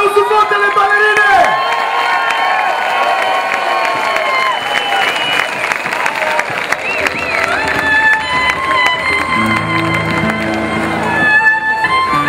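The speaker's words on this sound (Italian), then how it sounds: "Applauso forte alle ballerine!" Loud outdoor crowd at a Notte della Taranta folk music concert in Alessano cheers, whoops and claps for the dancers on stage, a big roaring swell with a voice over a PA and shouts mixed in.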